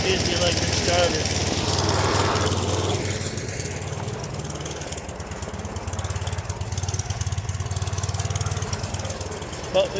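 A cold snowblower engine, started with an electric starter on an extension cord, runs with a loud, steady, rattling chug throughout, with people talking over it.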